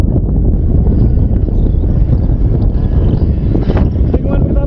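Strong headwind buffets the microphone of a runner heading into a steep uphill first bend, a loud, steady low roar of wind noise that stays unbroken throughout.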